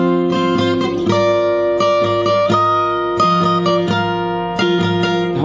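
A guitar chord sequence is strummed on the first four strings, with clear, ringing chords changing every second or so, played loud and close with no voice.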